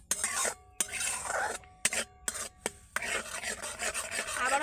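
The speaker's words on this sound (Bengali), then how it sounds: "দুধটা এইভাবে অল্প অল্প করে দেবো আর মেশাতে থাকবো" Milk being stirred little by little into a white sauce for pizza over a low flame, with quick scraping and rasping strokes of a spoon against the pan in uneven bursts, close and moderately loud.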